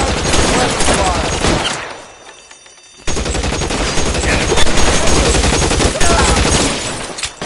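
Dense suppression gunfire in the video game L.A. Noire, loud sustained bursts of rapid shots that break off briefly into near quiet before resuming at full intensity.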